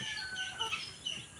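Native free-range chickens on a rural Bohol farm, a few soft clucks and bird calls rising from a faint, steady outdoor background.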